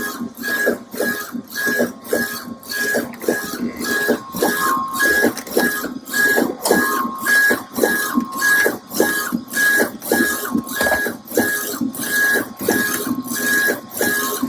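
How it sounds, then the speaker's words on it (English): DTF dual-head A3 direct-to-film printer printing a transfer, its print head shuttling back and forth in a fast, regular mechanical rhythm with a recurring beep-like tone over a constant hum. "it should start printing out"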